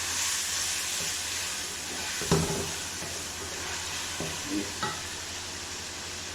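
Tomatoes tipped into a pan of onions frying for keema do pyaza, with a steady sizzle and a few brief clatters of stirring, close and moderately loud, no talking.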